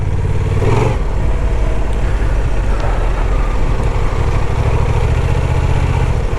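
A Honda Transalp 750 motorcycle engine drones loud and close while the bike rides off-road through sand, a steady low rumble with a brief rev surge near the start.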